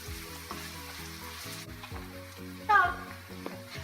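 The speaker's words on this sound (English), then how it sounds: "you saute it till it's translucent" Chopped onion sautéing in a hot pan for pasta sauce, a close steady sizzle under a repeating low musical pattern, with a brief clatter of stirring near the end.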